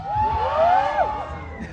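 A college talk-show audience shouts and whoops together in a loud, sustained burst of rising and falling cheers filling the hall.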